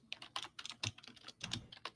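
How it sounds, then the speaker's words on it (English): Rapid, irregular clacking of a loud, noisy computer keyboard being typed on, keystrokes close and distinct in uneven bursts with short pauses, heard alone. "noisy keyboard"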